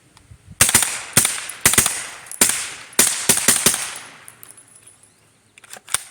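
A 9mm AR rifle fires during a mud test, with loud close shots in rapid bursts and doubles, ringing decays between them and a short pause before the final quick shots.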